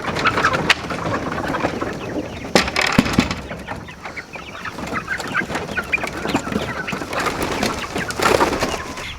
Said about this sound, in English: These birds are my front yard birds.